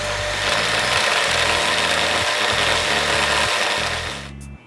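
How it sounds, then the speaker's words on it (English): A special milling tool machines a part for a Gen3R supercharger install on a Ford Mustang GT500, a loud, close, steady grinding whine with pulsing tonal shifts that cuts off near the end. "We're gonna do the milling trick with a special milling tool."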